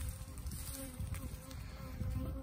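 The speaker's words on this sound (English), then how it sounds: "there's a little bee right there still working on it a little bit down in there." Bees drone in a steady close buzz around a bucket of corn syrup set out for feeding, a faint continuous hum with no talking.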